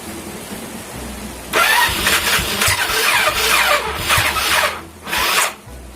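A Yamaha Mio scooter fitted with a PE 24 carburetor being kick-started with a weak battery, a few seconds of quiet then bursts of sputtering engine cranking and catching, close and loud with short pauses.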